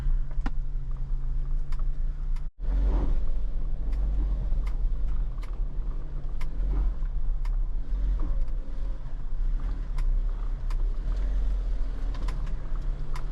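A Jeep creeps steadily downhill off-road in Goa with hill descent control engaged, its engine a low continuous rumble under wind and faint ticking, with one brief dropout partway through.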